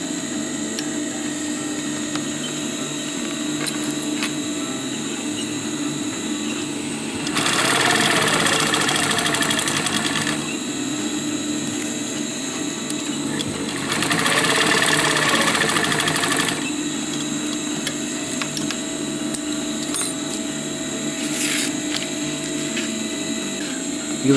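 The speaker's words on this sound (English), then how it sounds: "Now let's fold the upper part of the pocket and sew it" A sewing machine runs in two bursts of several seconds each while stitching the folded upper edge of a pocket on a tactical utility pouch, with quieter steady room noise between runs and no talk.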